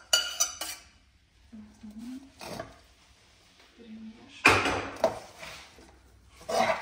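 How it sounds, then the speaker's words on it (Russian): Cooked warm quinoa being mixed in a bowl for tabbouleh, with a few sharp utensil clinks and scrapes against the dish between quiet pauses, close and moderately loud. "Перемешиваем."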